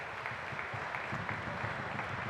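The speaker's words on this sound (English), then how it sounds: "Give them a round of applause" Applause at a Coal Bowl 2024 closing ceremony, a steady wash of clapping from a crowd that holds at an even level throughout, fairly distant.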